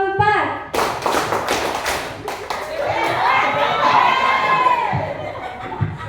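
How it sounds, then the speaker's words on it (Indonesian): A group of adults claps in unison, counted off in a rhythm, with sharp repeated hand claps giving way to loud mixed applause and cheering voices in a large room. "tepuk tangan untuk kita semuanya"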